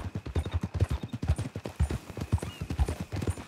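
Horse hooves clip-clopping at a steady walking rhythm in the Red Dead Redemption 2 video game, close and clear, with a faint background hum.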